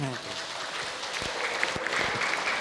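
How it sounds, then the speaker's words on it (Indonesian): Audience applause at an Indonesian religious talk show, greeting a quiz winner awarded one million rupiah; a steady, dense wash of clapping runs throughout the short span, with a brief voice at the very start. "Boleh tepuk tangan Ibu?"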